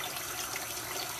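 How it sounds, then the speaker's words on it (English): A steady gush of water pours into a soup pot for a vegetable soup, a dense even hiss throughout, close but quiet, with no talk. "Okay, so I'm just adding a bunch of water."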